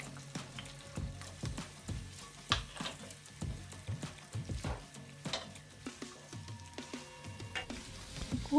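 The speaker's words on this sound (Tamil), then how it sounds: "அப்புறம் கட் பண்ணி வச்ச வெங்காயத்தை சேர்த்துக்கிறேன்" Chopped onions go into hot oil for a tomato kurma, giving soft, intermittent sizzling with faint stirring clicks and scrapes nearby, fairly quiet with no talking.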